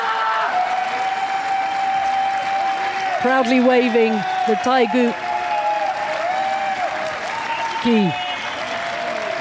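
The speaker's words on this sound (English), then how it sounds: "And jubilation from the crowd." Steady crowd cheering and applause fill the arena after the men's individual BC3 boccia final at Paris 2024, continuous and broad beneath a commentator's voice.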